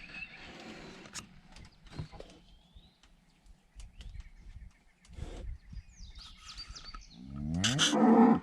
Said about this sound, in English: Well, we got the cow and Sue across the road, but the calf's still over there.